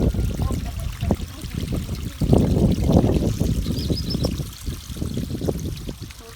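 A forest stream trickles and burbles steadily, close by, with splashy bursts of flowing water throughout. A voice speaks faintly in places.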